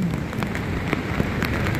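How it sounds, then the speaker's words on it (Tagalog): Heavy rain pours down near the sea, a loud, dense, continuous hiss of drops hammering surfaces with no voices. "kasi sobrang lakas ng ulan"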